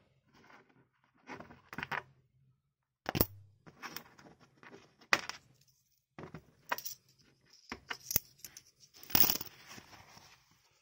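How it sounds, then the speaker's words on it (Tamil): One-rupee coins dropped into a small cloth pouch, a series of light metallic clinks and jingles in scattered bursts with quiet pauses between handfuls, close and fairly soft. "இந்த 1 ரூபாய் நாணயங்கள் எல்லாத்தையும் எடுத்து நம்ம இதில் போட்டுடலாம்."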